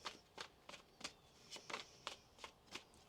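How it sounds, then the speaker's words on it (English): Tarot cards are shuffled by hand, giving quiet crisp riffling bursts that repeat roughly every third of a second, about nine soft flutters close to the microphone with no talk over them. "One more shuffle."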